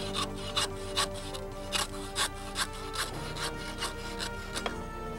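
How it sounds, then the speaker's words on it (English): Saw with a high-quality 18-tooth blade cutting through wire braided hose clamped in a holder bracket, producing a steady series of rasping strokes, close and distinct, with no talk. "The saw blade is a high-quality 18-tooth blade that is used to saw off the wire braided hose"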